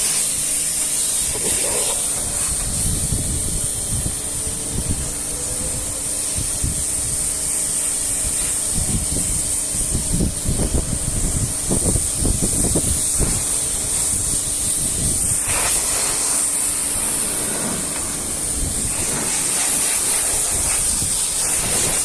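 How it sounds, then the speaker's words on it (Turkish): A Bosch UniversalAquatak 36V 100-bar cordless pressure washer sprays water across a car, including its windscreen, with a steady loud hiss that runs almost throughout and dips briefly near the end. "Ön camı yıkıyoruz şu an."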